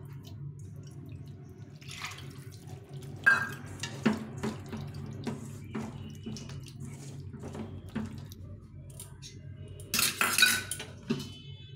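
A spice bowl clinks against a pan while being rinsed, and water pours into the pan for a Bengali egg curry, with scattered close metallic clatters and a brief splashing pour near the end, quiet overall, no voices.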